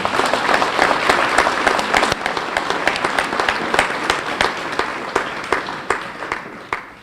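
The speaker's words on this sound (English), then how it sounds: "Let's give her a round of applause." Loud applause from a presentation audience fills the room, a dense steady wash of many hands clapping that carries on without a break, with scattered sharper claps standing out toward the end.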